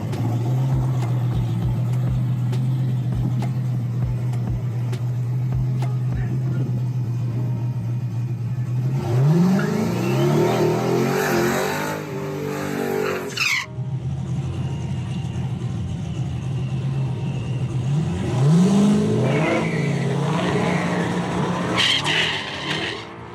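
A turbocharged 5.3 V8 Mustang launches down a drag strip, its loud engine droning steadily before revving hard with tire-spinning bursts, then easing and revving up again in a second surge.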